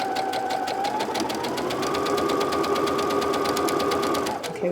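A sewing machine stitches steadily along the edge of a simple tote bag, its rapid even needle chatter running loud and continuous before slowing to a stop.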